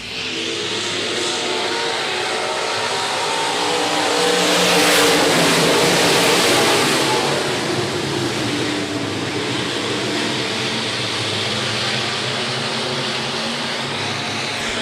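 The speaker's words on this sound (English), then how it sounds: "Precision Auto Body Stock Cars, 18 laps on their A main coming to the green" A pack of stock cars roars together on a dirt speedway as they take the green for an 18-lap feature, engines swelling to a loud peak as the field passes, then settling into a steady, broad drone.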